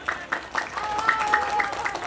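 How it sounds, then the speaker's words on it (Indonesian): A crowd at a pesantren event gives brief, scattered clapping, with a few distinct claps mixed with tonal voices or cheering over a short span. "Tepuk tangan untuk As-Sajdah Makkiyah."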